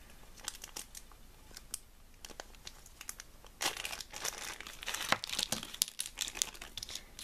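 Wrapping crinkles as a package is opened, with organza and satin ribbon among the contents, close and continuous crackling and rustling that grows louder and denser toward the end, with no talking.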